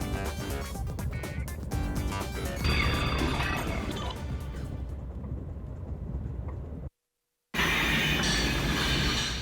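A loud rumbling, clattering video game train rolls into a station with metallic screeches and rattling, then a brief cut to silence before the noise resumes.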